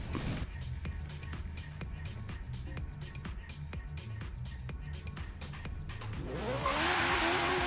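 An Ariel Atom, an X-Class car in Forza Horizon 3, roars steadily down an airstrip at high speed, its engine droning with rapid gear-change pulses and rising louder near the end.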